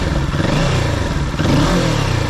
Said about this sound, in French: on entend beaucoup le moteur depuis la boîte à air